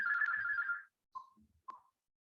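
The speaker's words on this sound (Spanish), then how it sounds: "me suena el teléfono en este momento" A mobile phone ringtone rings with a bright, steady electronic tone for nearly a second, then two short, fainter chirps follow after gaps of silence, with no talking.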